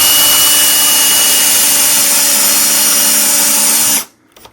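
A power drill runs at a loud, steady whine while driving soft screws into a three-way light switch during installation, holding one continuous tone for about four seconds before cutting off abruptly into silence.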